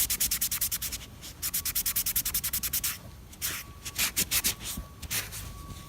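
Sharpie marks are rubbed off a shoe's rubber sole with a towel sprayed with cleaner, producing close, loud, rapid back-and-forth scrubbing strokes in steady rhythmic bursts with brief pauses between.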